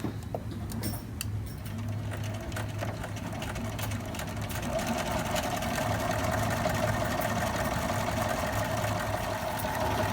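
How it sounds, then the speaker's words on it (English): A sewing machine runs a straight stitch a quarter inch along the open edge of a drawstring backpack casing, humming continuously and evenly at close range with no voices. "go back to your sewing machine and sew a straight stitch at a 1/4 inch along the open edge"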